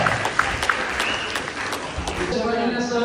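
Loud applause from an audience at a school prize-giving ceremony for a talent-search exam in Sangamner, dense steady clapping throughout with a spoken announcement over it.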